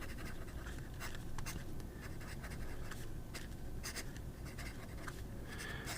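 Fountain pen with a broad Marte Modena nib writing in blue-black ink on paper, giving steady close scratching strokes with short pauses between them and no talk.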